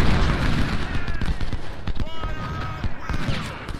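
Gunfire in a video game recreation of the Civil War Battle of Gaines Mill, dense crackling volleys of musket shots and booms layered over each other, loud and continuous with scattered nearer cracks.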